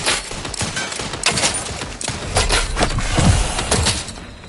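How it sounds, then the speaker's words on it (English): In the Outer Worlds video game, dense rapid gunfire and impact bursts rattle loudly and continuously around a thrown grenade, busy combat with no audible speech. "Grenade! Away!"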